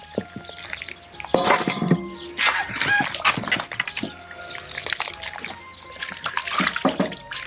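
Boiled pork stick bones being rinsed and scrubbed in water in a rural kitchen, with close splashing, trickling and clattering in irregular bursts throughout.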